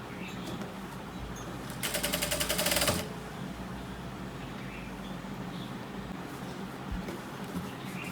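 A sewing machine stitches fabric at a garment's shoulder seam during a tailoring class, a rapid even burst of needle clatter lasting about a second, close and loud over a quiet room hum, with no one talking.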